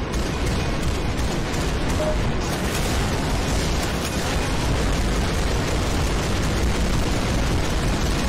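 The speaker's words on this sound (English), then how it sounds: "There's some really cool explosions." Explosions erupt in the VR shooter Beach Head, a dense, loud, continuous barrage of overlapping booms and bursts with scattered gunfire, heard alone without speech.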